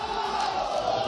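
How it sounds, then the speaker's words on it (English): Loud, dense crowd roar and cheering fill the stands at a CONMEBOL eLibertadores knockout football match in a video game, a steady swelling wall of voices with whoops rising throughout. "This crowd is rampant for Guy Barros."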